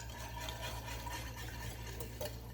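A spoon scrapes and stirs through a cheesy chicken casserole mixture in a bowl, quiet and close, with soft continuous mixing sounds and a brief clink near the end.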